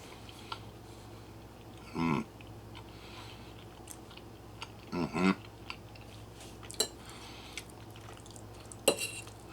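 Freeze-dried homemade BBQ beans being eaten at a taste test: a few short crunchy bites and chewing bursts, close and fairly quiet, with light clinks of a utensil against a dish and a low steady room hum underneath.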